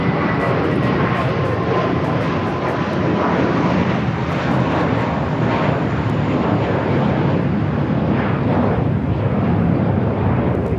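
A JetBlue airliner at LAX, bound for JFK, produces a loud, continuous engine roar that stays strong and even from start to finish.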